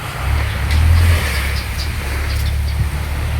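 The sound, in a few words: truck passing on roadside by the sea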